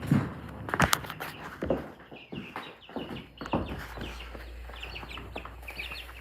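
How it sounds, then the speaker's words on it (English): Young chickens chirping and clucking at close range indoors, scattered bursts of peeping with some handling and shuffling noises, faint throughout. "Chirping"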